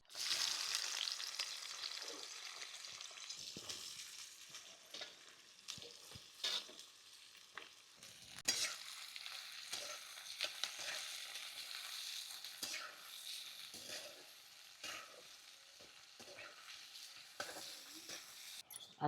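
Onion sizzles and crackles in hot oil seasoned with cumin and mustard seeds, with steady frying hiss broken by the scrape and clatter of stirring, for a Maharashtrian patra bhaji.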